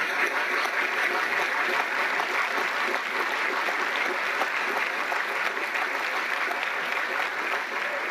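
Grateful applause fills the hall at the closing of an ordinary session of parliament, a broad continuous wash of many clapping hands at steady loudness throughout.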